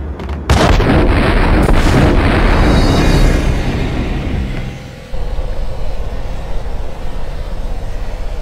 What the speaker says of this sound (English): Y'all gotta chill with these goddamn explosions